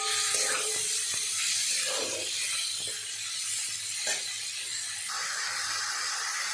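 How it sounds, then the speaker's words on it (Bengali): Chicken frying with chili in a pan, a steady bright sizzle and hiss running throughout with occasional clinks of a utensil against the pan. "চিকেনটা ওর মধ্যে এবার লাল লাল করে ভেজে নিই।"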